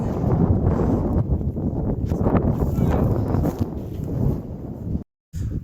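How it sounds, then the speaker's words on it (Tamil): Strong wind buffets the microphone on a mountain trek at Meesapulimala, a loud, continuous low roar with gusting swells and rustling, briefly cutting out near the end. "இங்கே காற்று வந்து ரொம்ப அதிகமாக இருக்குது"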